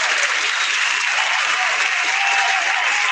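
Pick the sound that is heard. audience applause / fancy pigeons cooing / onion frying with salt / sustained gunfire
audience applause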